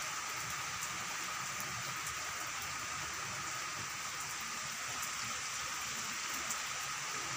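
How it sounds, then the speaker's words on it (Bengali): Heavy downpour of rain producing a continuous, dense, even hiss with faint patter, steady throughout without talk. "একেবারে মুষলধারে বৃষ্টি হচ্ছে।"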